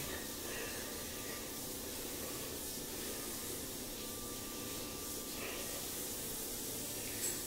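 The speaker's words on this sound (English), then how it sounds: "But I spray the water on there." A spray bottle misting water onto hair, a steady, soft hissing spray that continues without a break, quiet and close, with no talking.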